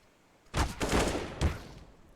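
Rifle fire in Counter-Strike on the map Train, two short bursts of rapid shots close together, punchy and fairly loud, with no talk over them.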